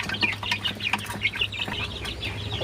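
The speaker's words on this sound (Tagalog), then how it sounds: "mayroon tayong day old na sisiyo" Nine day-old chicks chirp in a steady stream of high, overlapping peeps close by, with a faint low hum underneath and no talking.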